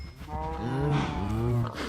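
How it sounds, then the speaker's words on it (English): A single drawn-out moo from a Minecraft cow, close and fairly loud, rising and falling over about two seconds with no talking over it. "I might as well feed some cows while I'm at it."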